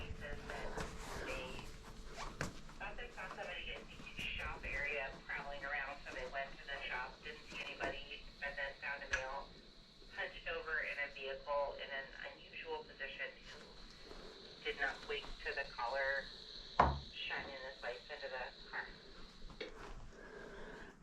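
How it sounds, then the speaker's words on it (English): Police radio scanner chatter runs steadily across the whole stretch, thin and band-limited voices crackling at moderate level with brief pauses between transmissions, heard indoors on a morning in July. "Something going on in the scanner."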